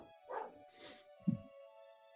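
Dogs let out a few short, separate barks and yips at moderate volume, spaced irregularly over a couple of seconds with no talking.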